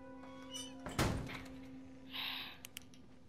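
A door thuds shut in the video game The Last of Us Part 1, one heavy close knock followed by a quieter scrape and a couple of small clicks over a steady low hum.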